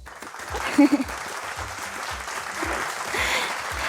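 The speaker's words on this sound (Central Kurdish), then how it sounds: "هەر بژی چەپڵەیەک بۆم هاوڕێم" A studio audience applauds a friend on a quiz show, a steady broadband wash of clapping that swells after a brief voice and holds for several seconds.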